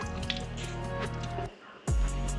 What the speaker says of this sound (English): it's gonna start spraying out the water